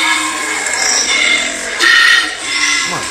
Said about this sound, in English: Oh my god. Koala sound like that?